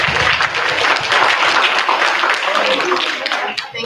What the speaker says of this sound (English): we're gonna give our panelists a round of applause